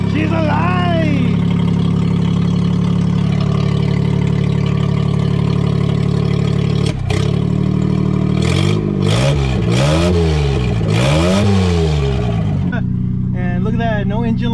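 A freshly started Geo Metro car engine runs loud and close, holding a steady idle before several revs rise and fall, with a voice talking over it.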